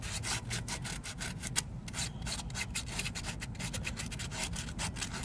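Sandpaper rubbed by hand over the surface of a car's ABS sensor compartment, a steady run of rapid, close scratching strokes with a short pause partway through, no voices.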